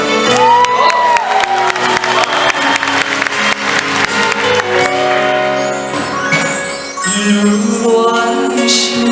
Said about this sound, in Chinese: 再用我们最热情的尖叫声跟掌声